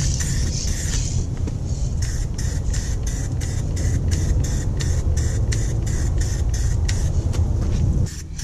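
Clear coat sprays onto the headlight of a 20-year-old Toyota Sequoia in a rhythmic series of short hissing bursts, about a dozen evenly spaced passes over a low background rumble, close up and without talk.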